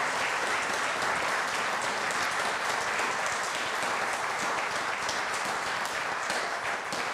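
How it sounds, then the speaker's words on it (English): An audience claps continuously after a concert band performance, a dense, even wash of applause that holds steady throughout with no voices heard over it. "would you join me in one more round of applause even as they head on out?"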